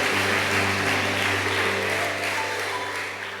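A church congregation applauds in a steady wash of clapping with a low hum beneath it, fading slightly at the end.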